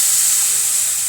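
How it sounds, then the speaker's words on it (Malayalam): Tamarind and kudampuli water poured into a hot pan of fish curry gives a steady, close hiss and sizzle with no break. "ഇനി നമുക്ക് പുളിവെള്ളം ഒഴിച്ചു കൊടുക്കാം."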